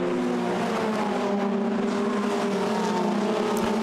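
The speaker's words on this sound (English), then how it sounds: "Charlie Eastwood trying to make further progress in his Strucker racing car." A Formula Renault 2.0 race car at Monza, its engine screaming at high revs in a loud sustained whine with slight pitch shifts as it races close by.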